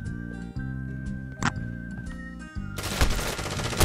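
Rapid automatic gunfire erupts loud and dense in a Call of Duty Modern Warfare 2v2 match, following a stretch of steady tonal game sounds and a single sharp shot.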